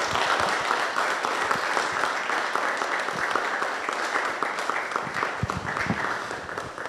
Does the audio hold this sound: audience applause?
yes